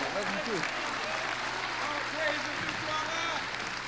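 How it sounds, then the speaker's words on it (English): An audience applauds steadily to welcome a minister onto the stage at a religious speaking event, a dense, continuous wash of clapping that holds at an even level for several seconds. "Give him a big round of applause."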